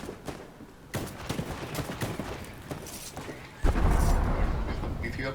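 Video game gunfire from a makeshift shotgun, a series of sharp irregular blasts ending in a heavier, sustained rumble of shots and noise.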